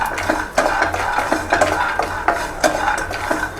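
Peanuts roasting in ghee in a pan over a low gas flame, stirred with a utensil that scrapes and clinks against the metal in quick repeated strokes, close and steady with no voices.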